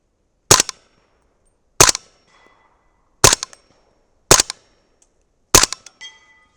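Five loud, sharp 300 Blackout rifle shots fired with powder-coated bullets and Winchester 296 powder at a propane tank target, spaced about a second apart, each a crisp crack with a short ringing tail.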